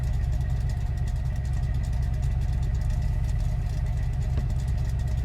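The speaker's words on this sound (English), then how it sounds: "Oh, it's got a V8." A stick-shift car with a V8 engine runs steadily at idle, a deep, constant low rumble with faint mechanical clatter, close by and with no talking.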